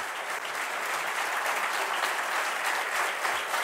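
Steady, dense applause from an audience honoring war veterans at an awards ceremony, loud and continuous throughout with no pauses.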